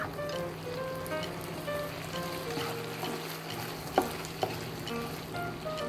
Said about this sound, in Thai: คั่วในกระทะนะคะ จนกระทั่งไก่สุกค่ะ